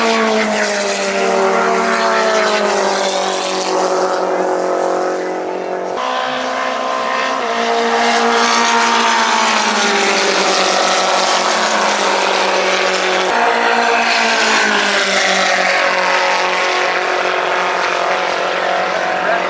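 Race car engines roaring in the pit lane, a loud, close and continuous drone whose pitch shifts and surges as the engines rev, with no pause over about twenty seconds.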